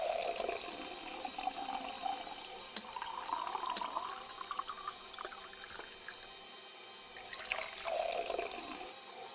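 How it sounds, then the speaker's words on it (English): Milk is poured slowly into vanilla sponge cake batter while a mixer runs, giving a steady watery trickle over a constant whirring background with no talk. "While the ingredients are mixing slowly and gently pour the milk."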